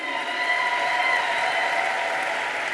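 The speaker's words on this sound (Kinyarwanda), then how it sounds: "Tumuhe amashyi atubutse." A church convention audience claps loudly and steadily throughout for the pastor, a dense, even wash of applause with no talk over it.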